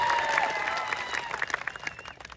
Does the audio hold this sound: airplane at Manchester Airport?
no